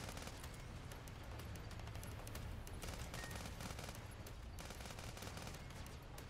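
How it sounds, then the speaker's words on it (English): A burst fire weapon in the video game Sandland fires continuously and fairly faintly throughout, close rapid reports merging into a dense rattling layer with no speech over it. "Oh, it's the burst fire."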